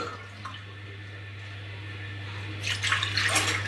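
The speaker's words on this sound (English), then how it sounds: "I'm going to add 1 cup of milk" Milk poured from a cup into a bowl of butter for bread roll dough, a faint liquid splash and trickle rising near the end over a steady low electrical hum.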